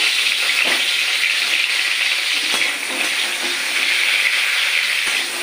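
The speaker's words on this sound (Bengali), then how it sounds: "এই পেরেস্তা ভাজার যে তেলটা আছে তার মধ্যে আমি পটলগুলো ভেজে দেবো।" Pointed gourd (potol) frying in a small amount of oil left from frying nuts, giving a steady close hiss and sizzle with faint stirring clicks throughout.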